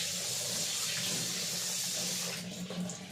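Water running steadily from a tap while hands are washed, a close, even rush of flow that eases slightly toward the end.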